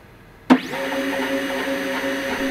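A CNC router starts cutting a cork sheet screwed to a wasteboard, with a dust shoe and extraction running: a sharp onset, then a steady loud whirring motor drone with tonal hum that continues unbroken throughout.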